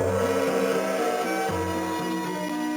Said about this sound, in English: The medium flowers sound like a soft gong.